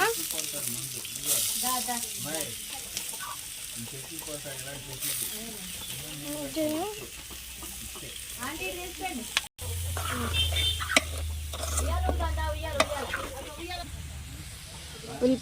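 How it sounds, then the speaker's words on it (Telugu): Green chillies and onions frying in oil left over from frying prawns, a strong steady sizzle with stirring, while a voice talks over the first half before the frying carries on alone. "ఇప్పుడైతే పచ్చిమిరపకాయలు, ఉల్లిపాయలు అయితే వేసుకుంటున్నానండి రొయ్యలు వేపిన నూనెలో."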